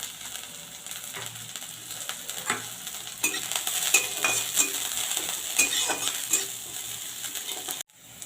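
Chopped garlic, ginger and green and red chili fry in a pan, a close crackling sizzle with repeated scraping and clinking of a spatula stirring. The sound cuts off abruptly near the end.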